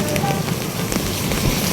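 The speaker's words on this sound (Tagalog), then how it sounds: "Ang lakas ng ulan." Heavy rain pours beside a roadside, a dense, loud, steady patter and hiss of drops striking surfaces without pause, close to the listener.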